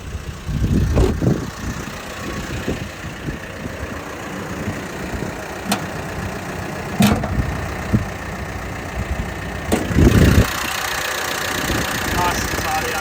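A 2016 Mitsubishi Triton GLX 4x4 idles steadily with its hood open, a low continuous engine rumble running throughout, broken by a few louder thumps and handling noises near the start and around the ten-second mark.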